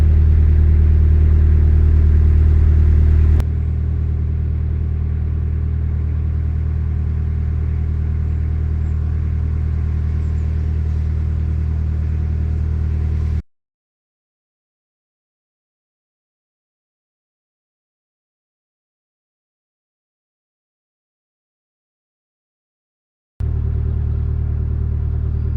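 A narrowboat motors along the Leeds & Liverpool Canal near Appley Bridge and Parbold, its engine a loud, steady low rumble that drops slightly in level early on, then cuts out into a long silence before resuming.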